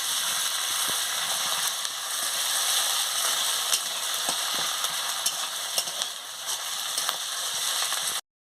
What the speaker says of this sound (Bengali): আদা বাটাটাও দিয়ে দিচ্ছি, দিয়ে ভালো করে ভেজে নিচ্ছি।